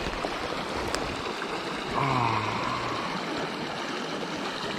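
Water runs steadily through a tiny trout creek, a constant close rushing and babbling with no voices.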